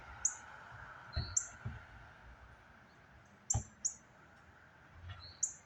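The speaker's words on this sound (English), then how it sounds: "You hear that bird?" Short, high bird chirps ring out singly and in pairs at scattered moments, faint and somewhat distant over a quiet outdoor hush, with a few soft low thumps between them.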